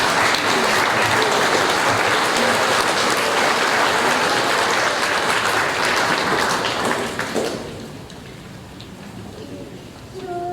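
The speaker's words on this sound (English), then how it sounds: "And as they leave, please give them a round of applause." Crowd applause at an Australia Day awards ceremony in Cowra, New South Wales: loud, sustained clapping that thins out and fades after about seven seconds, leaving quieter room sound.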